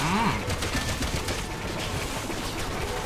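Rapid gunfire from Resident Evil 6 rattles on in a dense, steady stream at moderate loudness. A brief voice comes in at the start.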